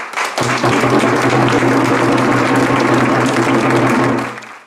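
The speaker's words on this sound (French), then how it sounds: "Merci de vos applaudissements." Applause fills the room at a ceremony opening restoration work on a historic mansion, starting abruptly and holding steady and loud with a low sustained hum beneath, then tapering off at the end.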